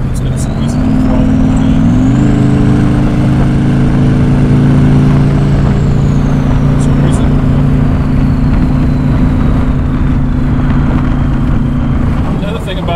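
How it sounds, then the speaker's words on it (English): A twin-turbo Chevrolet C8 Corvette pulls steadily under part throttle, its engine drone rising slightly in pitch as boost builds, loud and constant from inside the cabin with a faint turbo whine above. "if I just start squeezing into the power a little bit, feel the boost come in, feel that torque"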